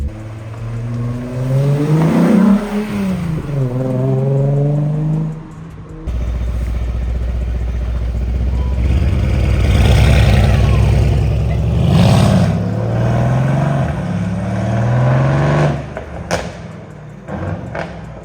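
A Mercedes C63 AMG engine revs hard through a loud aftermarket Boost Theory exhaust, rising and falling in pitch with a brief break, rumbling close by.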